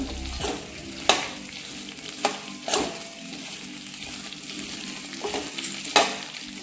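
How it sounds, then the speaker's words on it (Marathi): Okra pieces sautéing in a little oil in a pan: a steady soft sizzle runs throughout, broken by several sharp scraping stirs from a spatula, close and clear with no talking. "त्यासाठी आपण थोड्या तेलावर अशी परतून घेतोय 2 मिनिटं"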